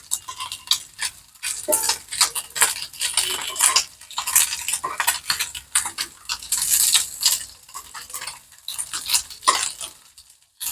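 Washing a kadai (wok) pan in a home kitchen, with irregular metallic clinks, scrapes and splashing water clatter running continuously at close range, no talking.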